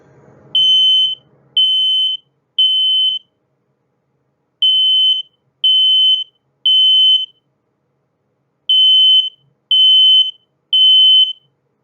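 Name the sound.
smoke alarm beeping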